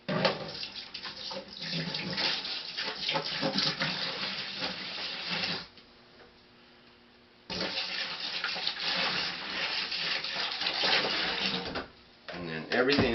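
Diluted chlorine sanitizer solution poured into a beer fermenter, a rushing, splashing water stream in two long pours with a short quiet gap, someone talking over it.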